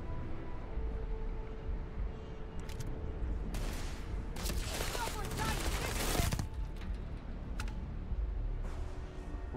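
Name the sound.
gunfire from enemies in the video game Starfield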